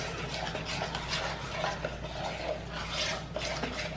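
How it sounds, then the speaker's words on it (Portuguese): A spoon scrapes and stirs a thickening mixture in a pot until it turns to paste, steady repetitive scraping with faint clinks over a low background hum, close and continuous without talking. "vai mexendo, até ficar essa papinha"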